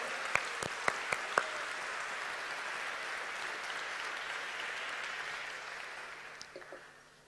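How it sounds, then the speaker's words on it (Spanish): A church congregation applauds during a sermon, opening with a few sharp, loud claps before settling into a broad, steady clatter of many hands that fades toward the end. "De un aplauso grandote al Señor"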